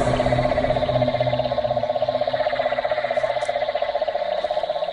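Chorus of toads calling together, a dense pulsing trill that is steady and continuous, fairly close and loud with no talking.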